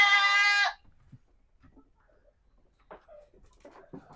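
A healthy adult goat on a farm gives one loud close bleat lasting under a second, followed by quiet with faint distant bird and animal noises.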